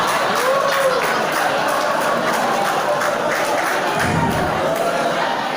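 Audience applause at a religious lecture in a hall, a steady dense wash of clapping and crowd murmur sustained throughout, with a brief low rumble near the end.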